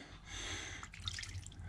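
Water from a pipe fitted with a T-piece runs into a new cattle drinking trough, a faint trickling and dripping with a soft hiss, close and quiet, brightening briefly toward the end.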